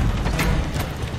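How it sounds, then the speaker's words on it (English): A gun reloads in the Call of Duty shooter, a short run of mechanical clicks and ratcheting metal handling, close and fairly loud, with no talk over it. "I'm reloading."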